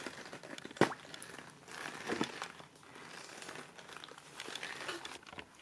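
Thin plastic cup from Biedronka squeezed and crushed by hand, giving a loud sharp crackle near the start followed by a run of softer crinkling and crunching bursts, close up with no speech.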